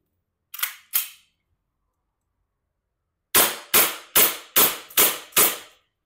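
Double Bell 774C airsoft pistol, a Glock 18C replica, snapping off two sharp shots, then after a pause a rapid string of six evenly spaced cracks, close and crisp.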